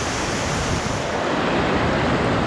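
Rushing water pours steadily at Silveta waterfalls in Assam, a loud, continuous roar close by with no break and no voices.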